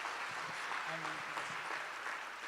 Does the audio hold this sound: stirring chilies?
no